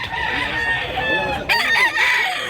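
A game fowl rooster crows in a couple of strained, raspy bursts, close and loud over steady background noise at a gamefowl market in Mantalungon, Cebu.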